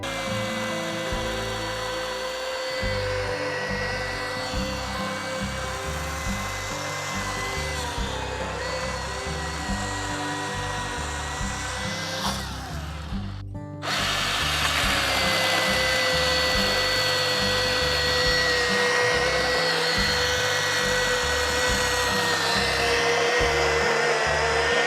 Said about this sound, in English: We'll look at some video of me using the chainsaw